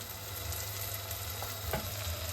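Onions frying in a pan, a soft, even sizzle with faint crackles and an occasional brief clink, heard close and fairly quiet with no voices.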